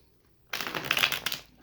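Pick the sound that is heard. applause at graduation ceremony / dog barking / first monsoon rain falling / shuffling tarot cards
shuffling tarot cards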